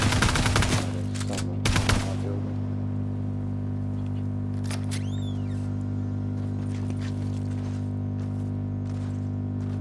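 Gunfire from a Fortnite match: two sharp, loud bursts of rapid shots in the first two seconds. A steady droning game background follows, with brief faint chirps.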